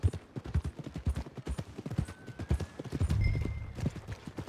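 Horse hooves clip-clop at a steady walk toward the stables in a Western video game, crisp regular hoofbeats close up, with faint ambient game sound and no talking.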